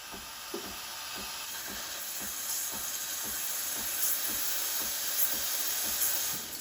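Steady steam hiss from the steam wand of a Breville Barista Express BES870 espresso machine, with a soft rhythmic pulsing running through it for several seconds, close and fairly loud.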